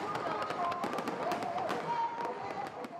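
Fireworks burst in a rapid string of cracks and pops at a New Year 2023 celebration in Côte d'Ivoire, loud and continuous over a murmuring crowd and whistling tones.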